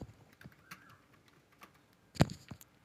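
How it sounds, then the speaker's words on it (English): A computer keyboard is typed on in a few sparse, soft key clicks, ending in one sharper, louder keystroke near the end. The sound is close and quiet, with no voices. "Tapos, type natin diskpart."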